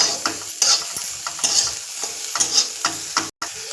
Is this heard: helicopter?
no